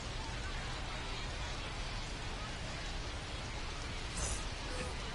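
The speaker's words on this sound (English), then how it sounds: "We'll see how well the field holds up with the way the rain is coming down." Rain pours down on a baseball field during a game, a steady, dense hiss with no break.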